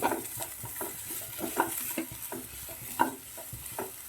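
Onions, capsicum and other chopped vegetables are stirred and sautéed in a pan for a dragon chicken dish, giving a steady close sizzle with repeated scraping strokes of the spoon at an even rhythm, without any talk.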